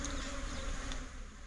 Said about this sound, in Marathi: तुम्हाला हे जे माशा घोंगताना दिसतात का